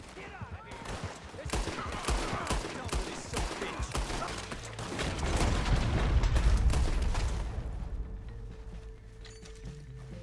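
Sustained gunfire erupts as O'Driscoll gang members attack in Red Dead Redemption 2, dense overlapping shots and bursts rolling on for several seconds, swelling louder near the middle before thinning out amid game ambience.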